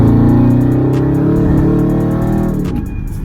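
Dodge Charger V8 with straight pipe exhaust revving, a loud, close, deep rumbling engine note that swells and then eases off near the end, with no talk over it.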